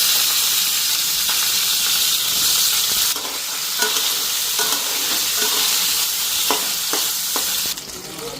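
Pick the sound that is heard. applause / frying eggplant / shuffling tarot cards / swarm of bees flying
frying eggplant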